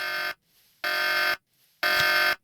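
Alarm in the video game Tex Murphy: Pandora Directive, a harsh electronic buzzer sounding in three loud, evenly spaced bursts with short silent gaps between.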